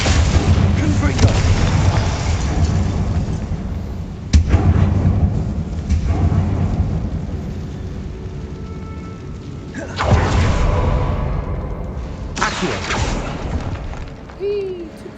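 Confringo spell explosions in the video game Hogwarts Legacy come as loud, deep booming blasts that roll out over a dense, sustained game soundscape, with several heavy bursts through the stretch.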